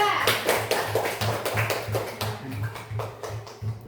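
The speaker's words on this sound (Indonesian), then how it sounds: "Tepuk tangan dulu untuk kelompok 3." Classroom applause for a student presentation group, a run of steady hand claps from a small audience in a room, with a low hum underneath and talk present.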